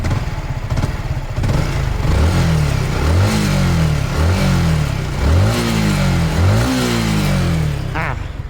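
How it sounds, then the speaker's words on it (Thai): A motorcycle engine idles close by, then revs up in four or five quick throttle blips that rise and fall in pitch. "เสียงเครื่องยนต์เนี่ย ก็ยังคงเงียบอยู่"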